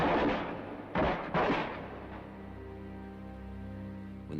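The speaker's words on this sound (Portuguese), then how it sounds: "Quando os tiros terminaram" Machine-gun fire during an attack on the kibbutz Kfar Etzion comes as a loud, rumbling barrage with two sharp blasts standing out, then fading into a low sustained roar.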